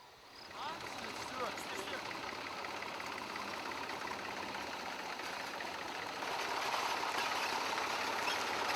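Tractor engine running at a village in Kosovo, a steady mechanical drone and rattle that swells slightly louder toward the end, with no clear speech over it.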